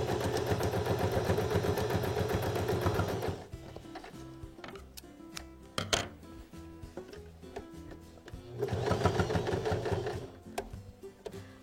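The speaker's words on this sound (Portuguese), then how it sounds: "Vou passar uma costura." A sewing machine stitches a seam on a small fabric bag being made into an overall-style pouch, with a steady rapid whir in two bursts of about three seconds each and quieter handling clicks between them.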